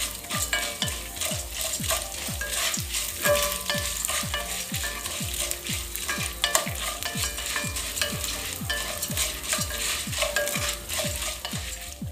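Dried red chillies, split in half, sizzle steadily in hot oil while a spoon stirs them in regular scraping strokes against the pan, a continuous frying hiss with no talking.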